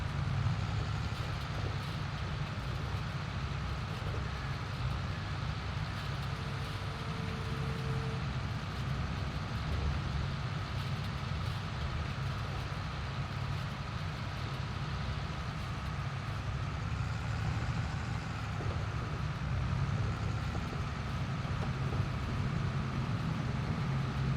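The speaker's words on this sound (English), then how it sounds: "Can you guys hear the tractor okay" A tractor engine in the Farming Simulator 22 video game hums steadily at a low idle-like drone throughout, even and unbroken with no talk over it.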